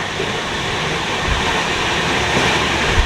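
The Koaa Jat Express 13151 from Kolkata runs at speed around 106 km/h, a loud continuous rumble and rush of wheels on rails heard from inside the coach, with a faint clatter.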